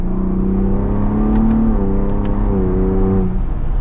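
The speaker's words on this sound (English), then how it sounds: "This engine's so responsive." Engine of a 2023 Ford Bronco Raptor off-roader revs loud and close, its pitch climbing, dipping and rising again in a steady throaty drone with no voices over it.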